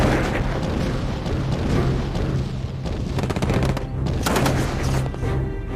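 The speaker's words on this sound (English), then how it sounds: "Newly restocked with ammunition, their guns devastate the approaching German tanks and troops." Artillery guns fire on approaching German tanks during the WWII Battle of the Bulge, heavy booms and blasts rolling over one another in a dense, loud barrage.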